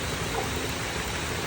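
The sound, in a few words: rain falling outside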